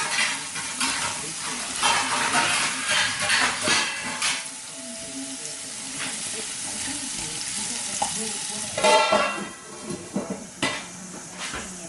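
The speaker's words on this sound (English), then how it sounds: "I'm going to cover it up to cook for about 10 to 12 minutes." Bombay potatoes sizzling and frying in a pan, a steady close hiss with occasional stirring scrapes and clatter of the pan over roughly twelve seconds.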